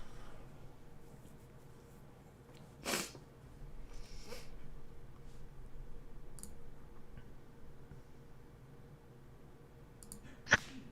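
A single person sneezes indoors, a short sharp burst that stands out against a quiet room with faint clicks and breathing; a second brief burst comes near the end.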